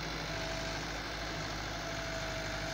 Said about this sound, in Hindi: 385 ट्रैक्टर है,